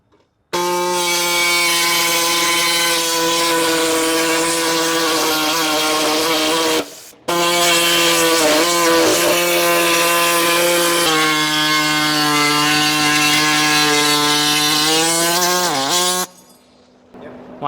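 A power tool saws steadily through the fender of a 2020-or-later Mazda BT50 to cut a snorkel hole, a loud, close, continuous harmonic whine with one brief pause midway and a wavering pitch near the end.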